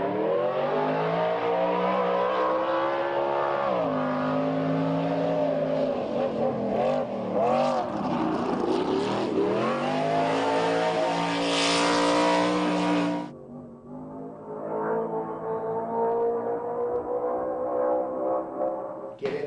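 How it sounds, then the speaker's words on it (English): The Vortec Superstock race truck, driven by Larry Ragland in snowy Pikes Peak testing, revs hard through rising and falling gears with loud, close engine howl, then cuts off abruptly before a quieter second pass of revving. "Watch the very talented Larry Ragland put the Vortec Superstock truck through its paces."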